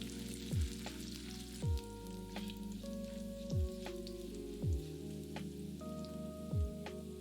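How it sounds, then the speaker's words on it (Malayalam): Dried red chillies, slit green chillies, curry leaves and sliced garlic frying in hot oil, with a soft continuous sizzle and a few faint spatters, plus a repeated low rhythmic thump behind it. "എണ്ണ ചൂടാകുമ്പോൾ അതിലേക്ക് 6 വറ്റൽമുളക്, 4 പച്ചമുളക് നീളത്തിലരിഞ്ഞത്, കുറച്ച് കറിവേപ്പില, 4 വെളുത്തുള്ളി അല്ലി നീളത്തിലരിഞ്ഞത്, ഇതെല്ലാം കൂടി ഇട്ട് ചെറുതായിട്ട് മൂപ്പിക്കുക"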